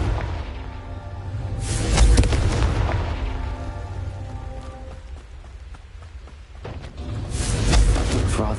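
Two heavy booming blasts from the Confringo spell in Hogwarts Legacy, each a loud close explosion with a long rumbling tail, spaced several seconds apart.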